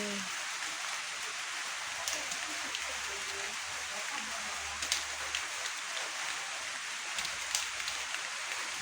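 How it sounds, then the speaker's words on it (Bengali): Light rain patters steadily outdoors in a village, a soft, even hiss of drops with scattered faint taps, fairly quiet throughout. "বৃষ্টিটা কিন্তু কইতে কইতে নেমে পড়ছে এই যে টিপ টিপ টিপ টিপ করে করতেছে"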